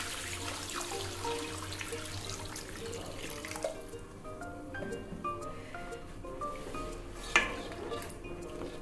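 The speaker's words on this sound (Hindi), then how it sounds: "अब इसको हम गलने के लिए गोश्त को पानी लगा देंगे।" Water runs steadily from a tap into a pot of meat for korma, a continuous splashing stream, with a brief clank of metal near the end.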